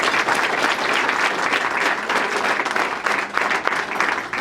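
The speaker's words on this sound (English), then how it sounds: "Please give them a round of applause." Loud, sustained applause from a large crowd at a Sister Cities International celebration in San Jose, with dense clapping continuing evenly throughout.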